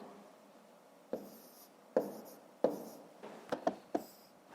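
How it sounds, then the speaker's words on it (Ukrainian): A pen writes numbers by hand on paper in a quiet room, giving soft scratchy strokes in a handful of short taps and scrapes, close up with no talk. "Записуємо 840."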